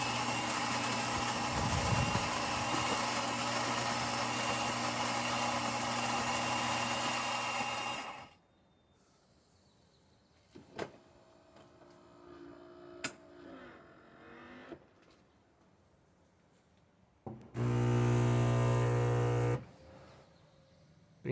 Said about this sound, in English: and now we can do that espresso shot.